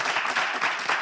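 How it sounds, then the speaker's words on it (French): A studio audience on a French game show breaks into applause: a brief, dense, even patter of many hands, fairly loud and unbroken, with no voices over it. "On peut l'applaudir, s'il vous plaît."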